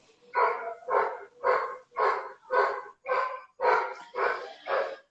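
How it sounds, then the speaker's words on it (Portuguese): Dogs barking indoors, nine evenly spaced loud barks in a steady rhythm, close by and with no other sound. "As cachorras não estão ajudando hoje aqui, Cris, também."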